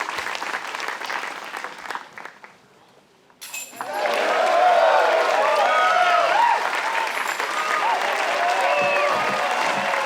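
A disc golf crowd at the MVP Open in Massachusetts erupts in loud applause and cheering after a brief lull, sustained clapping filling the rest of the moment.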